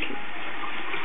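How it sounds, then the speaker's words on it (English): Water runs from a bathroom sink tap during teeth brushing, a steady, close rushing stream lasting the whole moment. "Turn the water on."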